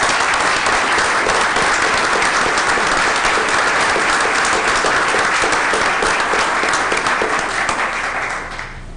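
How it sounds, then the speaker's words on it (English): Sustained applause from an audience at a community ambassador program event, dense steady clapping that stays loud and even for the whole stretch before tapering slightly at the end. "I think it's a round of applause."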